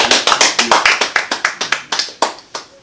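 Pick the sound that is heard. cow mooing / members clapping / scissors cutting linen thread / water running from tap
members clapping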